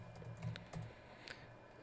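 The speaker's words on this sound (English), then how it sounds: "Typing the wrong password in here" Quiet tapping of keys on a computer keyboard while a password is entered, a short run of soft, uneven clicks close to the mic with no voices.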